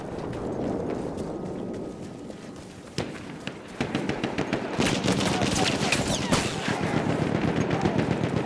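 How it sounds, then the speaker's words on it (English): Machine gun fire rattles through a Battlefield 1 Rush battle, growing denser after the first few seconds into rapid overlapping bursts amid ongoing combat noise, with muffled voices and a busy battlefield din underneath. "Ein Maschinengewehr!"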